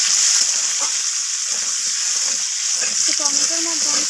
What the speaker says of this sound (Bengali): এবার আমি ওই তেলের মধ্যে দিয়ে দিলাম কেটে রাখা টমেটোগুলোকে। তো কাঁচা টমেটোগুলোকে একটু আমি ভেজে নেব।